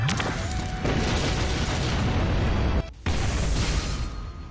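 A detonation blast in the Seven Deadly Sins: Grand Cross mobile game, a loud, sustained booming roar that cuts out briefly near the three-second mark and then surges back.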